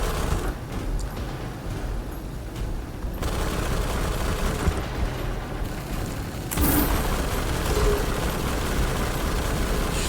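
Dense gunfire and explosions in the video game Armor Attack keep up a loud, continuous roar of booms and rattling shots, thick and close throughout without a pause.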